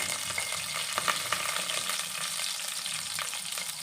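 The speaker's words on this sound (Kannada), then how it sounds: "ಉದ್ದಿನಬೇಳೆ ಇದನ್ನ ಸ್ವಲ್ಪ ಫ್ರೈ ಮಾಡ್ಕೋಬೇಕು" Urad dal and chana dal frying in oil in a pan for tamarind poha chitranna, a steady close sizzle with faint crackles and occasional stirring taps, no voices.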